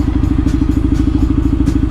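A Triumph Bonneville 800cc parallel twin motorcycle engine idles close up, a loud, fast, even chugging pulse with a slightly clattery mechanical edge.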